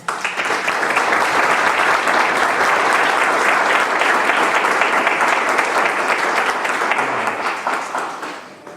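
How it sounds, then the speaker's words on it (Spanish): Audience applause for a departing doctor at a talk on the human rights of older adults, steady sustained clapping from a full room throughout, tapering off at the end. "Lo saludamos al doctor, sí, con un aplauso"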